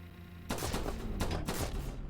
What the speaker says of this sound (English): Ooh, the gunshots have different sounds.